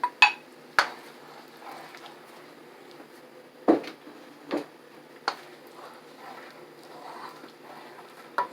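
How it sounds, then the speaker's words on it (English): Precooked shrimp tipped into a pan while making shrimp with lobster sauce, a few sharp clinks and soft thuds of utensil against cookware spread across a quiet stretch. "I'm going to go ahead and add the shrimp, which I already cooked earlier for 2 minutes."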